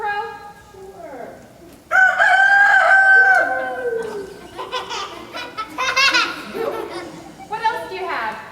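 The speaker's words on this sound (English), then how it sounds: "Can you give me a rooster crow?" A rooster crow sound effect plays at a children's Vacation Bible School show, with several loud, clear crows followed by laughter and voices from the audience.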